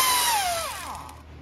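Tool with a short 14 mm wobble socket on a six-inch extension turning transmission bell bolts on a 2015 Chevy Spark: a brief, loud, close whine that quickly winds down in pitch.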